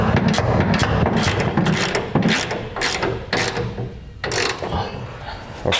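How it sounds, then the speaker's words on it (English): A hand ratchet tightens the bolts of a 5th wheel trailer hitch on a 2006 Dodge Ram pickup, giving bursts of fast, loud, close clicking broken by short pauses between strokes. "we can begin the process of tightening down all of our bolts, starting with the center section bolts to our rails first"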